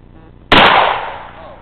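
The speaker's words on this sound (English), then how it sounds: "From the shoulder with a single shot." A shotgun fired from the shoulder lets off a single loud, close blast that cuts sharply through the quiet and then rings and decays over the next second.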